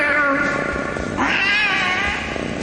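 A housecat meows insistently, a drawn-out, wavering caterwaul that rises and falls over a couple of seconds, close and loud with no talk.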